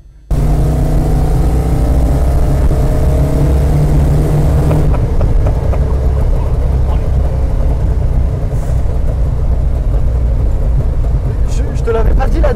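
A 1969 Dodge Charger's engine accelerating from inside the car, a loud continuous rumbling drone that shifts in pitch partway through, with people talking over it.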